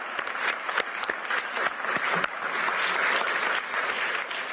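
Audience at the Davos economic forum applauding the staff, a steady dense wash of clapping throughout, moderately distant in a large hall.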